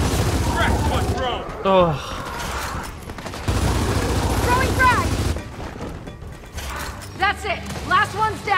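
Video game gunfire in a Gears of War 4 campaign: bursts of shots and mechanical weapon clatter mixed with game effects, with voices speaking over parts of the action.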